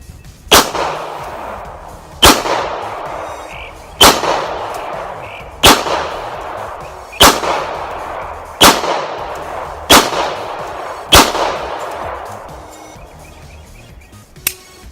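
A Beretta 92FS pistol fires about ten rounds outdoors, each sharp loud crack followed by a fading echo, shots spaced roughly one and a half seconds apart in an even rhythm.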